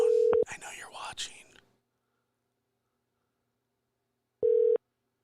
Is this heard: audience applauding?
no